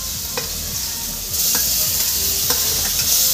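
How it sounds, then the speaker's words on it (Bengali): Jujube fruit (kul), already coated with turmeric and salt, sizzles loudly in hot oil for a sour-spicy-sweet pickle, a steady hiss that swells midway, with a few stirring scrapes in the pan. "এবার আমি কুলটা ভেজে নেব।"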